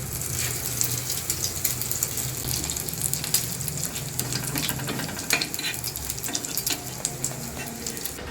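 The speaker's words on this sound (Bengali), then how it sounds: "এবার চাটুতে রাখা গরম তেলে দিয়ে দেবো" Steady, close sizzling of food frying in hot oil, with light scraping and stirring noises and no talking.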